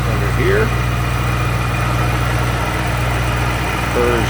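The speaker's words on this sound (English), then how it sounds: "Purrs beautifully. Hear that" A supercharged V8 in a 2005 Ford Mustang Saleen S281 convertible idles steadily with a low, even rumble and faint supercharger whine, close by.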